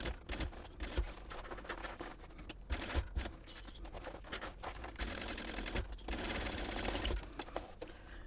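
A sewing machine stitches a fabric seam on a small purse, running in a steady mechanical whir with brief pauses and restarts, close and fairly loud throughout.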